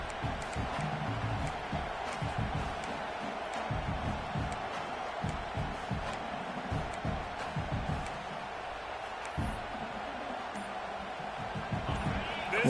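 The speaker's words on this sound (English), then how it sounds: "This crowd going to try to make life miserable for these guys" Stadium crowd in EA Sports College Football 26 roars as a steady, dense wash of noise with swelling cheers, heard under a play-by-play commentator's voice.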